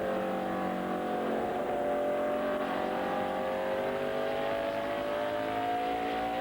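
NASCAR Cup stock cars racing at New Hampshire's flat Magic Mile in 1998, a steady loud roar of several engines droning together with rising and falling pitch as cars run in lap traffic, continuous throughout.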